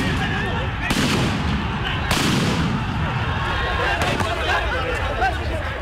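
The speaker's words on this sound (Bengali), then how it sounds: "নেতাকর্মীদের ছত্রভঙ্গ করতে ফাঁকা গুলি, রবার বুলেট ও টিয়ার শেল নিক্ষেপ করে পুলিশ" Police firing blanks, rubber bullets and tear gas shells to scatter party activists during a street clash, with two loud sharp bangs cracking over a noisy crowd and constant hubbub and shouting voices.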